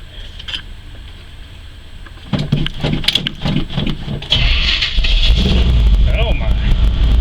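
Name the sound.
1976/1978 GMC truck engine warm start with choke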